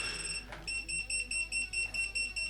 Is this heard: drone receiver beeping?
yes